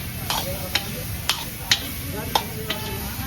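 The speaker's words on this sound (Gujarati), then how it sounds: "હવે અમે બટાકા નાખશું બટાકા નાખી દીધા છે આ ફેરવી લીધા" Potatoes stirred into sizzling masala in a home kitchen pan: a steady frying hiss runs throughout, broken by about six sharp scraping clinks of a spoon against the pan at irregular intervals.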